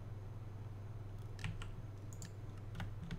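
Computer keyboard typed on in quick, irregular bursts of soft clicks, close and fairly quiet over a steady low hum, no voices.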